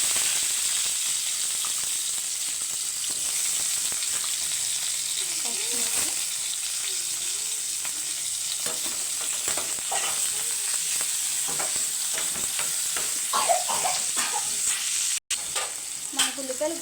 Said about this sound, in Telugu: ఉల్లిపాయలు బాగా ఫ్రై అవుతున్నాయి